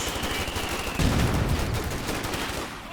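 An MG42 machine gun in the battle game Company of Heroes 2 fires sustained rattling bursts amid other gunfire. The bursts grow heavier and denser after the first second and stay fairly loud under a busy battle mix.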